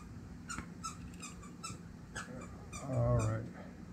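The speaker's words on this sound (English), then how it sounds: "the dog's going to be making squeaky noises" A dog whimpers in short, high squeaky yelps, scattered and fairly faint, ending in a louder whine near the end.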